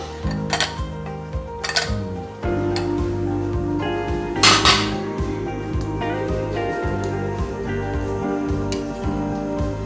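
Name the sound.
lid removed from pot of cooked rasgulla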